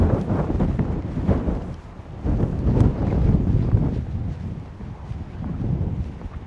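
Strong storm wind gusting over 50 mph roars and buffets around a tent in rising and falling surges, loud and close against the microphone.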